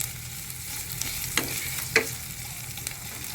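Chicken feet frying in a pan with aromatics, a soft steady sizzle running throughout, broken by a few sharp clinks of a utensil against the pan around the middle.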